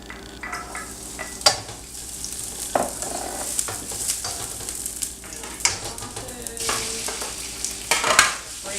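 Scallion whites sizzle and fry in a pan while a spoon stirs and scrapes through them, with several sharper scraping strokes over a steady close crackle.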